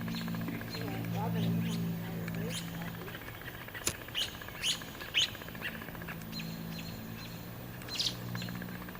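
Birds chirp outside in short, scattered tweets of moderate loudness over a faint low hum, with a few sharp clicks between the calls.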